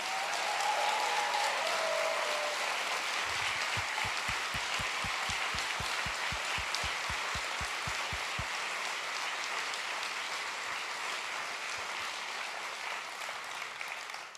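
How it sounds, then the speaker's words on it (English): Sustained audience applause for Sir Ken Robinson filling a large event hall, dense and steady throughout, with a short burst of low rhythmic thumps partway through and no talking. "A round of applause for the Sir Ken Robinson for guest hosting this final session."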